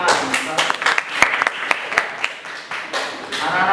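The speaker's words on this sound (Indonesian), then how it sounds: "Ya, tepuk tangan." Students at a Darul Quran Islamic boarding school clap together in a short burst of dense, lively applause, lasting a few seconds at close range with no talk over it.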